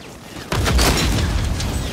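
Sniper gunfire in a first-person shooter game hits with an abrupt loud blast, followed by a dense, sustained rumble of battlefield noise.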